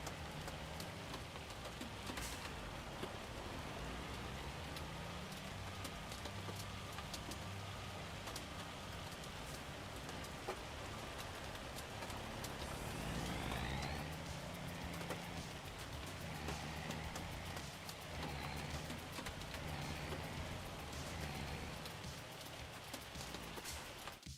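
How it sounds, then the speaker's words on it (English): A hailstorm in Farming Simulator 25 pelts down in a continuous, hissing patter of ice striking surfaces, steady and fairly faint, with occasional scraping and rumbling machinery sounds underneath. "It's hailing hard."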